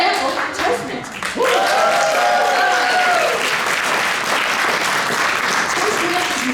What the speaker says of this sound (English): That was a round of applause, people.